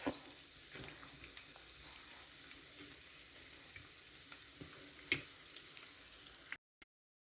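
Dough fingers for a bride's-fingers pastry fry in not-too-hot oil, a soft, even sizzle that runs for several seconds with a faint click partway through before stopping abruptly.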